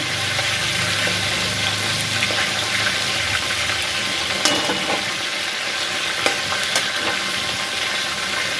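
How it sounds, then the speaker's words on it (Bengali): Boal fish heads deep-frying in oil, a loud, continuous rushing sizzle close by, with a few sharp pops and crackles breaking through, no voices. "লাল লাল করে মাছের মাথাগুলোকে ভেজে নেব"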